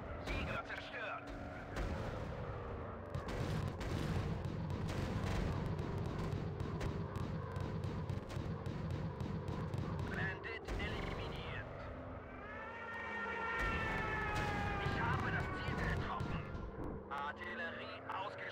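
Artillery and flak explosions in the WW2 air combat game Warplanes: WW2 Dogfight, a dense run of booming blasts and gunfire over aircraft engine drone, with a German voice speaking in between.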